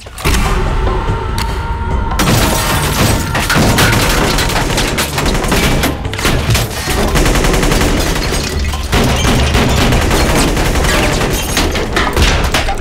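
Gunfire from a Haitian gang shootout scene in Bad Boys 2, with loud sustained volleys of shots, booms and heavy impacts filling the whole stretch at a dense, chaotic pace, up close and overwhelming.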